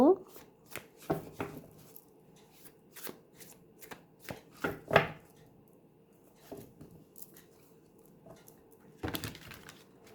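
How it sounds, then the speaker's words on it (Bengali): Tarot cards shuffled by hand in irregular bursts of riffling and soft slaps, close and fairly quiet, with brief pauses between bursts and a louder flurry near the end. "সো আমি কার্ড শাফল করে নেব।"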